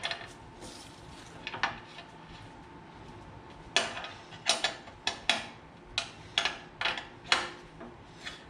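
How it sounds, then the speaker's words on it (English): A snow blower locks onto the front quick hitch of a John Deere 332 tractor with metallic clunks, creaks and ratcheting clicks, sparse at first and then a quicker run of sharp close knocks, with no talking. "wonder if we can just put it into place like that and then lock it in"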